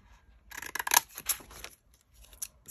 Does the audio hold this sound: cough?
no